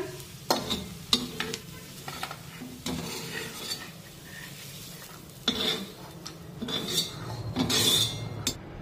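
Fried onion, ginger and garlic masala being scraped with a utensil from a pan onto a plate of coconut, with repeated metallic scrapes and clinks over a soft sizzle, fairly close.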